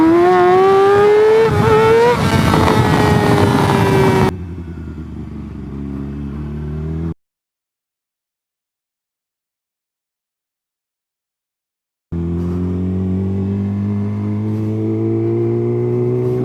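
Motorcycle engine revving hard and climbing in pitch as a rider accelerates into a wheelie on the street, loud and close, then dropping to a lower drone, cutting out to silence, and returning as a steady rumble.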